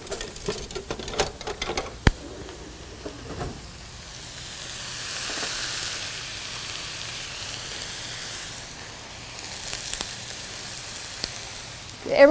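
Rubbed steak strips frying in a hot pan give a soft, steady sizzle and hiss with scattered pops and crackles, fairly quiet and close, swelling slightly midway, with no one speaking.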